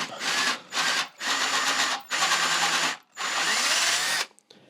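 A power drill whirs in five short, steady bursts with brief pauses between them, close and fairly loud.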